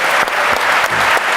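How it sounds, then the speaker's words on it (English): Audience applause, a dense steady burst of many hands clapping throughout, loud and close with no talk over it. "You have a round of applause."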